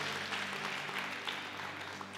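Steady applause from a crowd, a dense even patter of clapping continuing throughout at moderate distance without pause.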